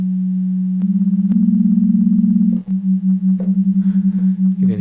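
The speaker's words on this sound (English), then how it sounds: "hear that beating now?" Sustained synthesizer tones on an Osmose stepping through a scale in non-equal temperament tuning, with a slow, wavering beating throbbing in the held pitches; no voices.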